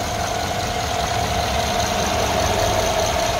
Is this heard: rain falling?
no